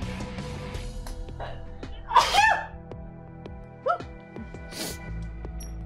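Sneeze sound effects in The Binding of Isaac video game, two sharp sneezes standing out over game music, the first louder and the second shorter, with other bursts of game noise around them.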